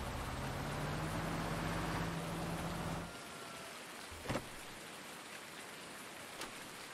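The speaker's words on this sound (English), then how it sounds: "we're back to the farm and bunkering down whilst this rainstorm passes" Rain from a passing rainstorm in Farming Simulator 19 hisses steadily at first, then drops to a quieter patter, with a couple of brief knocks later on.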